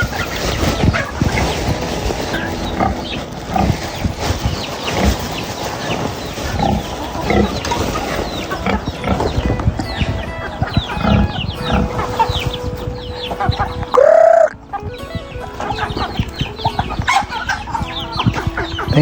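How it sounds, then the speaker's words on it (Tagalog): A flock of chickens clucks and squawks continuously nearby, with one louder, drawn-out call partway through amid the busy farmyard din. "ang dami ng manok dito"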